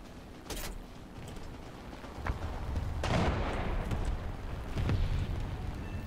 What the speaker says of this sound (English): See if we can't take him out with the little bomb.